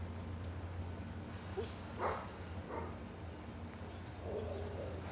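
A guard dog in training gives a few brief barks and yips at moderate distance over a steady hum of background noise, with short whimpery sounds between them.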